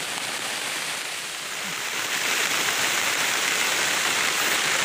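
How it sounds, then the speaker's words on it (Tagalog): Heavy rain pours in the mountains, a dense, loud and steady hiss that swells slightly halfway through, with no voices. "Malakas na ulan."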